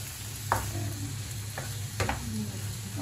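Chicken breast and string beans sautéing in a pan, a steady close sizzle broken by a few stirring scrapes and utensil clinks, with no talking.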